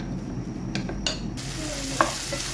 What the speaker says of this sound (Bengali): চুলের উপরে বসাই দিয়ে হাই হিটে কতক্ষণ এইভাবে লাড়াচাড়া করব